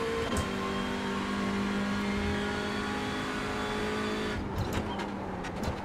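Hyundai Elantra N TCR touring race car in iRacing at Montreal, its engine holding a steady, sustained drone with shifting harmonic pitch, then a brief change in tone near the end as revs drop and pick up.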